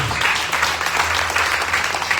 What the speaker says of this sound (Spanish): podemos darle un aplauso fuerte a nuestro Señor